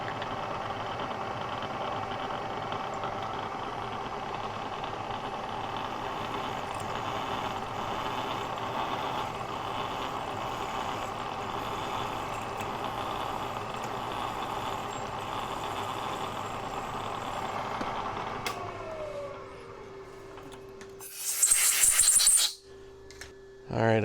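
Milling machine drilling a 17/64 inch hole in a base for a Black Diamond drill grinder's wheel dressers, a steady motor hum with cutting noise for most of the clip, then winding down, followed by clattering.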